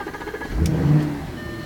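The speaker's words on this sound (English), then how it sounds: "Alright, let's get this car started." A 2019 Audi's engine cranks and catches after a push-button start, a low rumble swelling for about half a second then settling into a steady idle, with a brief faint electronic beep near the start.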